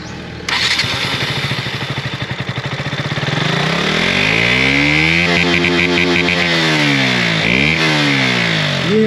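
KTM RC 125 BS6 motorcycle on its stock exhaust, firing up and idling with a throbbing beat, then revving repeatedly with rising and falling pitch, loud and close.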